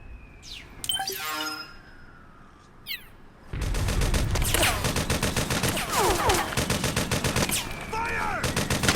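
Gunfire in the video game Metal Gear Solid 4: Guns of the Patriots, with a few sparse effects and shots at first, then sustained rapid automatic bursts mixed with heavy shots, loud and continuous, with brief shouts in between.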